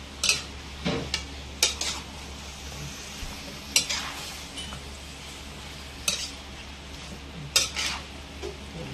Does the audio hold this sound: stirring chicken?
yes